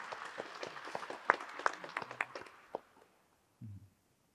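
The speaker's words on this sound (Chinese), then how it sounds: "特别好，为小何鼓掌。" Light applause from a small audience during a relaxed talk event, sparse individual claps rising briefly then dying out, followed by silence and a short low thump.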